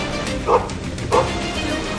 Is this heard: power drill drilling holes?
no